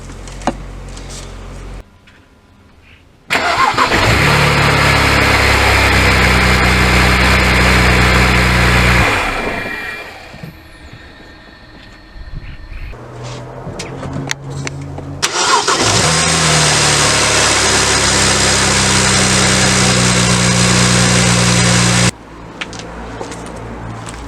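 A BMW N54 engine cranks and fires, then runs at a loud, steady idle close by, with a pause and a second start partway through; no voices are heard.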